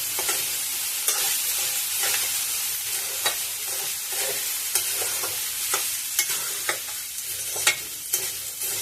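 Cooked rice and salt being stirred into capsicum rice in a pan, soft continuous frying hiss punctuated by a regular series of spatula scrapes and taps against the pan.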